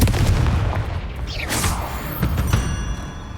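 Confringo spell blast in the Hogwarts Legacy video game: a heavy booming explosion at the start with rumbling low end, followed by a whooshing magical streak and a few sharp cracks as it fades.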